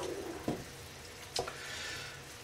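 Pork sauce made with cider, apple and garlic reduces in a pan, giving a faint steady sizzle broken by two brief sharp scrapes of a utensil stirring.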